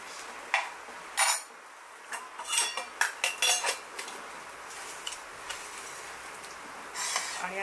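A spoon clinks and scrapes against a metal pot while tamarind and jaggery dal amti is stirred, giving irregular sharp taps and rattles at close range over a quiet background.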